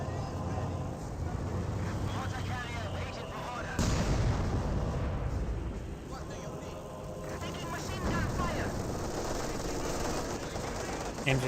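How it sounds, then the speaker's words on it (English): During a Company of Heroes 2 battle, 120mm mortar and artillery fire sounds as repeated heavy booms and blasts over continuous combat noise, with a voice narrating throughout. "120mm mortar does get a hit there on the Grenadiers"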